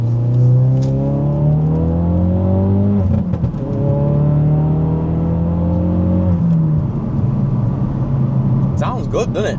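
A Ford Focus RS with its muffler deleted revs hard nearby, the exhaust rising in loud, raspy sweeps with pops and crackles as the revs drop, voices chatting faintly underneath.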